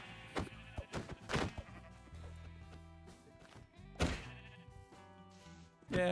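Minecraft sheep bleat several times in short wavering cries amid game thuds and faint hoof clops.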